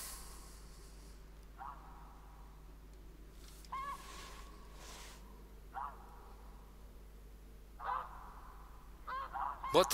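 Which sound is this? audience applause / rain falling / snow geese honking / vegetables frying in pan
snow geese honking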